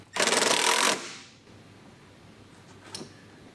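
Mounting bolts on a BMW 328i convertible mud flap are tightened with a tool, giving one loud, rapid, rattling burst close up. It is followed by quieter background and a faint click.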